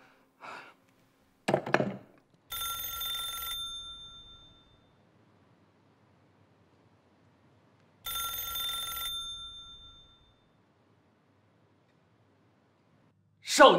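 A telephone in an old house rings in two separate bursts of bright bell ringing with a long quiet pause between them, after a few brief rustles at the start.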